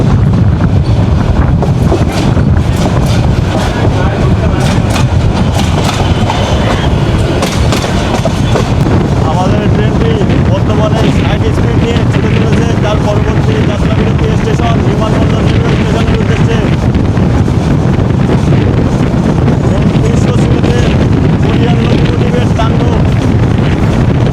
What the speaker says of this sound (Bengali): আমাদের ট্রেনটি ফাইনালি কমলাপুর রেলওয়ে স্টেশন থেকে বেরিয়ে এখন আমরা ছুটে চলেছি